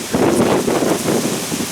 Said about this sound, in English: but very windy.